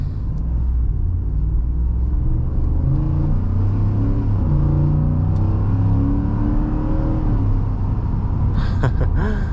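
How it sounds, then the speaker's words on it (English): A 2026 Ford F-150 Lobo pickup's V8 engine rumbles and revs steadily with strong intake roar, a deep throaty sound rising and falling as it accelerates, with a brief rattle near the end. "It has a lot of intake roar."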